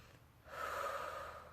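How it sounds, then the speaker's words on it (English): Single slow, deep inhalation during a mindful breathing exercise, a soft airy draw through the nose that swells and holds, quiet and close with no speech. "Focus on your breath. Do 3 mindful breaths."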